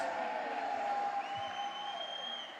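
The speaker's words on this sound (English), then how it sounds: "And you can hear the crowd coming to life here as" Crowd of UIC fans at a men's 3m diving final cheering and applauding, a steady broad wash of noise in a large echoing indoor pool hall, with a faint voice under it.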